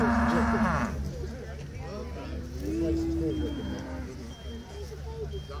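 Cattle in the livestock ring at the Suffolk Show give a drawn-out moo at a moderate distance, heard faintly beneath someone talking over a busy showground background.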